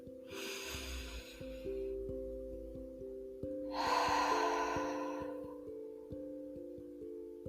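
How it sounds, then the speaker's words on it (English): Two slow, deep breaths, each a long airy inhale followed by a release, close and clear over a steady soft tonal drone with faint ticking. "Let's take a couple of deep breaths, breathing in, breathing out, and relaxing on that exhale."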